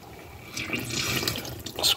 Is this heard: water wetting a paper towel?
yes